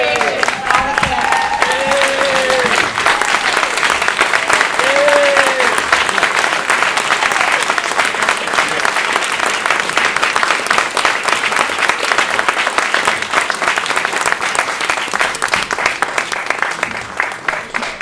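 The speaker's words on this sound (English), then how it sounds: "can we have a standing applause?" An audience at a Democratic New Jersey governor candidate forum in Princeton gives a sustained standing ovation, loud continuous clapping from a large crowd with brief cheers early on.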